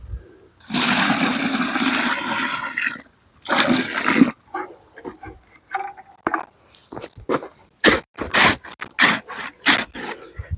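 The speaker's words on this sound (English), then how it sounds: "we're going to come on in with some water to pour on this Quickcrete right here" Water poured onto Quikrete concrete mix outdoors, a steady gushing splash for a few seconds, another short pour, then a run of irregular splashes and scrapes close by.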